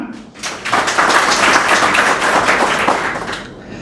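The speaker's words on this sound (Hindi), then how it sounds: "तो एक बार जोरदार तालियां।" Applause breaks out for a motivational speaker and author at a change management training for junior India Post staff in Bareilly, a dense, steady round of clapping from a hall audience lasting several seconds, swelling quickly and tapering at the end.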